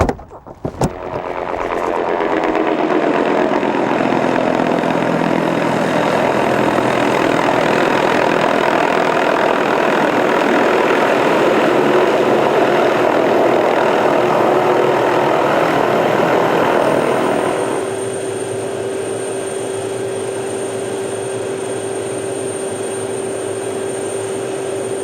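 Helicopter engine running close by with a loud, steady whine and rotor drone that drops to a lower idle partway through, with a thin high tone persisting afterward.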